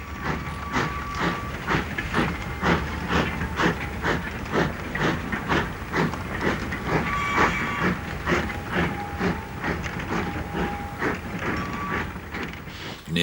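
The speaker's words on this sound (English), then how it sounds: "a northbound freight crosses the River Wear behind K1 Mogul 62044" Steam freight train hauled by K1 Mogul locomotive 62044 crossing the River Wear, steady rhythmic clickety-clack of wagons over rail joints with hiss and a few whistle-like tones, fairly close and continuous.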